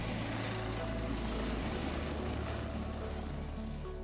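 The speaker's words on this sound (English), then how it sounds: "The Juno is a more versatile helicopter" A Juno HD-1 training helicopter runs close by with a continuous, steady rotor and turbine drone that holds at an even loudness throughout.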